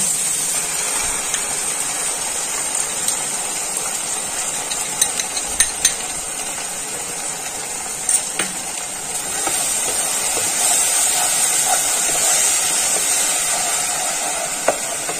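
Bitter gourd frying with mustard paste in a pan, a steady close sizzle and hiss throughout with a few brief stirring clicks and scrapes, no talking.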